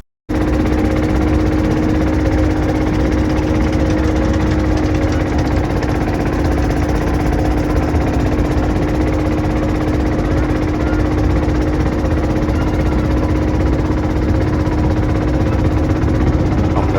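A boat's engine runs nonstop on the river at Jaflong, a loud, close, even drone with a steady mechanical hum and knocking undertone that continues unchanged for the whole stretch, with no talk.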